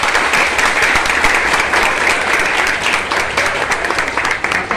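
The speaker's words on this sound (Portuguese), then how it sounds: "Uma salva de palmas." Dense, loud applause from a school audience on the first day of classes, many hands clapping steadily and continuously with little else heard.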